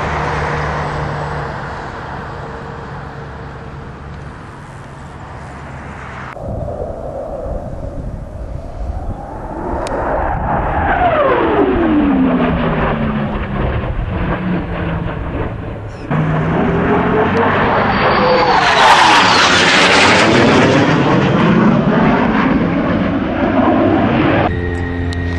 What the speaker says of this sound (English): Very hard to capture footage of an F-111. It travels faster than it sounds